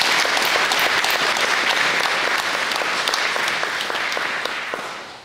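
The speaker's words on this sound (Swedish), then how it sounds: "En applåd för Nina Kronlund." Warm, full applause fills a hall at a spring awards ceremony, steady and loud for several seconds before gradually fading away.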